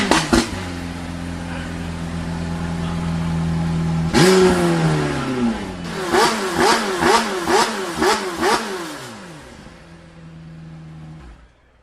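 A McLaren Senna GTR track car's engine idles with a low steady drone, then barks into a sharp rev followed by a rapid series of six or seven quick throttle blips, each rising and falling, before settling back to idle; loud and close.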